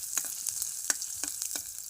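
Ginger sautés in a hot pan with a steady sizzle and scattered sharp pops, close and fairly faint, with no talk.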